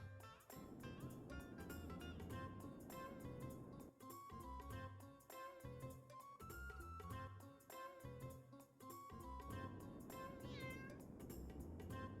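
Soft cat meows from the Chrono Cross video game sit in a quiet, continuous loop of melodic game music that plays steadily throughout.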